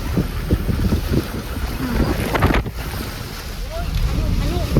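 Strong wind buffets and roars across the microphone in gusts, with water sloshing and faint voices underneath.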